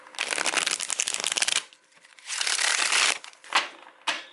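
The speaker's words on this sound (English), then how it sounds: "It kind of shuffles a little bit wonky." A Rider-Waite-Smith tarot deck is shuffled up close in several bursts of crisp riffling, with short pauses and a couple of quick taps between them.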